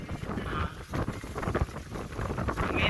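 Strong sea wind at a beach in Bagac, Bataan buffets the microphone in a continuous loud low rumble with gusting swells, no voices over it.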